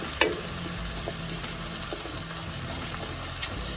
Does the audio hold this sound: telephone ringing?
no